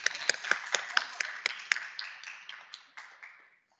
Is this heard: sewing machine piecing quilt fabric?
no